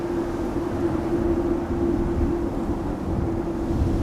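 A Transavia airliner moving at Amsterdam Schiphol Airport, a steady mid-distance jet engine drone with a sustained hum and wind rumble, no voices.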